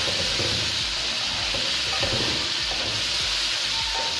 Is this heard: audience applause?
no